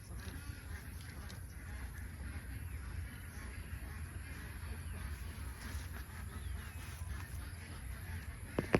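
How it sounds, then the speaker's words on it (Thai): A flock of ducks at a duck farm quacks and honks continuously in the background in the evening, a dense, moderately faint chorus with no clear pauses. "เป็ดร้องนะคะ"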